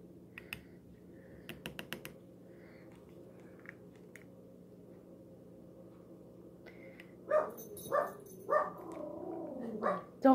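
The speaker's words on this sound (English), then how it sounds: "Don't mind my dogs. They're always barking." Dogs barking in a home while lip gloss is made: a few sharp barks near the end, fairly close, after quiet stretches of low hum and small clicks and taps.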